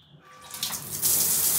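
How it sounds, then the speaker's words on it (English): An Aqualisa rain head shower starts up, rising from a faint trickle into a loud, steady hiss of falling water after about a second. "if you wanted to change it to rain head shower, you just push the lever to start"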